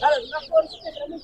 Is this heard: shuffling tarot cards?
no